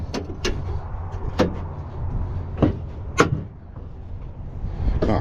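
A Duramax pickup truck's newly fitted used door thuds and clicks several times as it is pushed toward closed, a series of sharp, close knocks and latch sounds with no talk.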